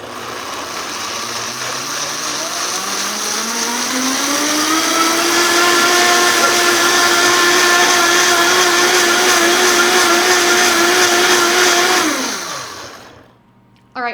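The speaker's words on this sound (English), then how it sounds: "I'll blend this until it's smooth" Blender pureeing vegan broccoli cheese soup with nutritional yeast, motor whirring loudly as it ramps up in pitch, holding a steady high whine, then spinning down and stopping near the end, no talking.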